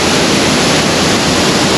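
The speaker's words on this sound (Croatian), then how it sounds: "Jest vodopad skakala." Loud, constant roar of Skakala waterfall in Durmitor's Sušica canyon, a thick wash of crashing water filling the whole moment with no break or speech.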